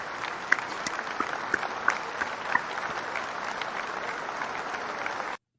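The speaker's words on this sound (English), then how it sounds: "Put the round of applause up for you." Audience applause at a live comedy show rolls on steadily for several seconds, with a few sharper claps near the front, then cuts off abruptly.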